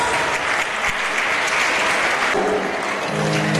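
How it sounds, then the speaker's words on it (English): A school annual day audience gives a round of applause, a dense, loud wash of many hands clapping that continues steadily for several seconds. "Give a big round of applause."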